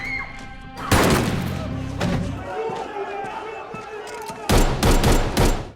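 Gunfire bursts in an action film fight scene against mafia henchmen, loud sharp volleys at the start and end with impacts between, under a narrator's voice.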